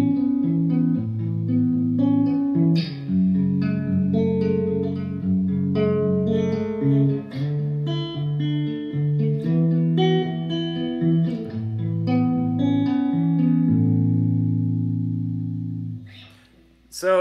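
An electric guitar with chorus and reverb plays a flowing riff of ringing, open-voiced add nine chords and arpeggios, steady and close, fading out near the end.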